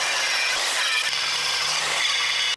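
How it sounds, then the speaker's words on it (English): Continuous abrasive grinding of a metal part being ground flat for a DIY metal 3D printer built around a TIG welder, a loud steady rasping hiss that holds for over two seconds and then cuts off abruptly. "So now, I gotta grind all this flat so that it makes as much contact with the bed as possible."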